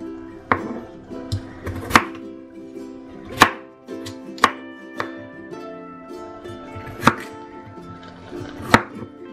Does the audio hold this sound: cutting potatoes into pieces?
yes